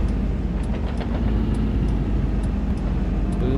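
A Kobelco excavator's engine revving in Farming Simulator 22 inside a cave, a loud, steady low drone with faint periodic ticks on top and no talk.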